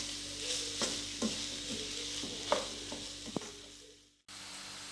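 Spoon stirring through a pie filling with black olives in a pan, giving several soft scraping strokes over a steady faint sizzle, close and alone, before it cuts out near the end.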